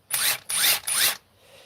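A handheld power drill whirs in three short, even bursts separated by brief pauses, loud and close, then stops; no voices are heard.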